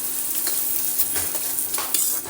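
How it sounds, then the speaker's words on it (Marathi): Onion frying in a pressure cooker pan for pav bhaji, a steady close sizzle with scraping spoon strokes and occasional metallic clinks; no one speaks. "याला थोडंसं फ्राय करून घेऊ हलकंसं आपलं कांदा फ्राय झालेला आहे"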